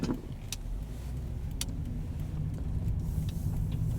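A car rolls through Mohegan Park in Norwich, Connecticut after a snowstorm, its engine and road noise a steady low rumble heard from inside, with a few faint clicks and rattles.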